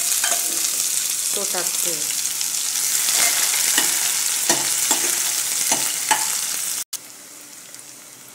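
Chopped onion frying with cumin and garlic in oil for dal fry, a loud steady sizzle with repeated spatula scrapes and clinks, briefly under a few spoken words, then quieter after a sudden cut.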